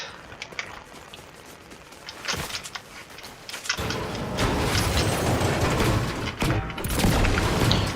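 Gunfire in a battle royale video game, a dense burst of rapid shots and impacts that swells from moderate to loud and stays continuous through the second half, with no talk.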